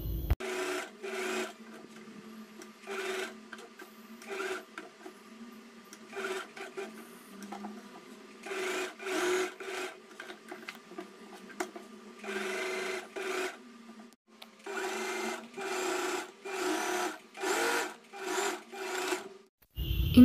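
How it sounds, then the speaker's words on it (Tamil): A sewing machine stitches puff-sleeve blouse fabric in repeated bursts of fast, rattling whirring, some short and some longer, separated by brief pauses; close and clear, with no talking. "ஸோ இதை வந்து ஸ்டிச் பண்ணிக்கலாம்."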